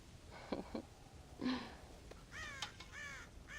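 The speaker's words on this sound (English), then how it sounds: "God damn crows!" Crows caw from a farm silo in Red Dead Redemption, a few hoarse caws early on, then a run of quicker, higher calls, all fairly close over a soft background hiss.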